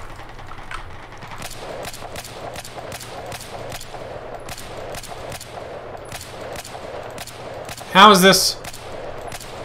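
Steady, rapid gunfire from Battlefield 4 played on PC pops in an even rhythm through the whole stretch over a constant background hum, and near the end someone briefly speaks over it.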